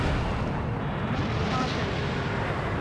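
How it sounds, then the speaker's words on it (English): In the Ace Combat 7 jet-combat game, a missile launch and its blast come through as a dense, rumbling roar that fills the moment, loud and sustained with no voices. "Spare 15, launching missile."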